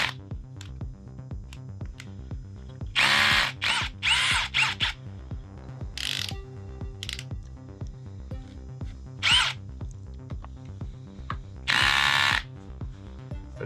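A Bosch Professional GSB 18V-150 C cordless drill driver whirs in several short, loud bursts separated by pauses while failing to remove a screw, with a faint ticking clutch in between, close up and without talk.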